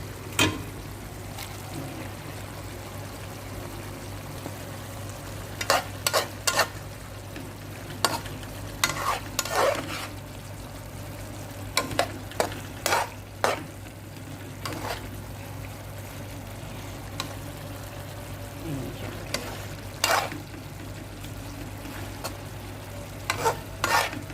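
Half an onion sizzles steadily in a hot frying pan for a Filipino egg-stick dish, a constant close fry broken by repeated scraping stirs, with no talking.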